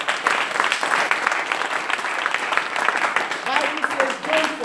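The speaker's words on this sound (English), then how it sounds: "Clap unto the Lord." A church congregation claps together during an all-night prophetic worship service, a steady dense patter of many hands sustained throughout, with voices talking and calling out over it.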